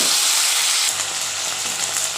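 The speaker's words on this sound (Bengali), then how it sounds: "জিরেটা একটু কালো কালো হয়ে আসলে কটা চিংড়ি মাছ দিয়ে দিচ্ছি" Prawns drop into hot oil with blackened cumin seeds, giving a loud, steady sizzle and hiss close up, with no talking.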